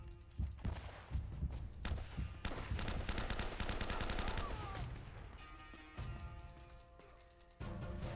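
Bursts of gunfire in the video game Uncharted, loud overlapping automatic shots and thumps from a firefight, with some pauses and a sudden final burst.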